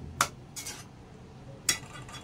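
Stirring kulith pithi, a thick horse-gram flour curry, in a pot: two sharp spoon scrapes against the pot's side with a soft shuffle between them, close and fairly quiet, with no talk.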